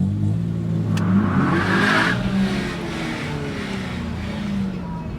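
A Seat Ibiza Cupra launches hard at a drag strip, its engine revving up loudly and then briefly dropping pitch on an early short shift before pulling again, with a voice talking over it.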